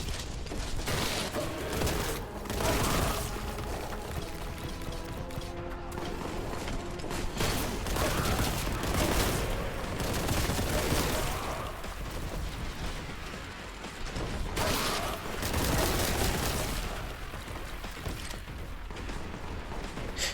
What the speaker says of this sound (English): there's already someone shooting at us